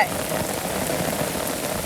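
Steady rain falls in a Bangladeshi village, a dense continuous patter on surfaces, close and unbroken for the whole short stretch.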